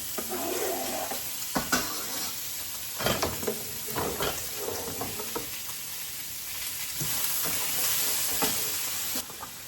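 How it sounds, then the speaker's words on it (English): Chopped onion hitting hot bacon in a pot for clam chowder, giving a loud hissing sizzle with scattered crackles and a few clattering stirs, steady and close with no talking. "I'm going to add this to my bacon"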